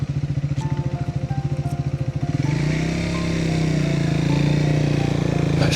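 Triumph Speed 400 motorcycle ridden on a mountain road between Haridwar and Harsil, its engine pulsing in a steady rapid beat and then settling into a smoother, louder drone as it gathers speed, close and continuous.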